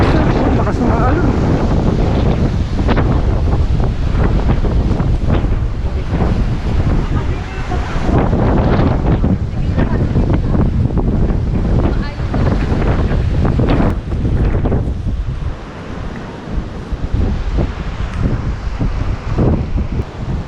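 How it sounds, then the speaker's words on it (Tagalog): Strong wind buffets the microphone over crashing surf on Boracay Island, with waves rolling in loudly and continuously throughout. "Pwede ka na mag-surf. Lakas ng alon."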